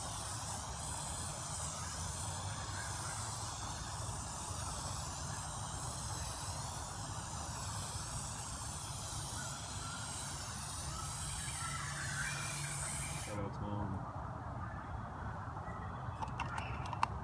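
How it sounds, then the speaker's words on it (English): A spray paint can hisses in a long, steady burst of aerosol laid down in strokes, close and fairly loud, then cuts off abruptly near the end, leaving quiet room sound. "And then you just spray it in strokes."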